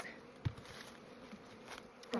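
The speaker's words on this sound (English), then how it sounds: "a lot of bees in that box" Honeybees buzz in an opened hive box in a bee yard, a soft, steady faint hum with a few light taps and rustles.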